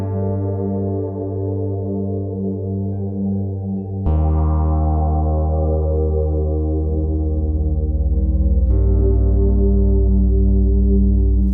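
Deep, sustained harp bass string tones ring out through a heavy effects pedal, layered with droning harmonics; a new low note strikes partway through and swells louder.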